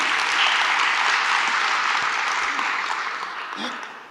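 Audience applause at a conference in Cape Town, a sustained wash of clapping from a large room that gradually thins toward the end.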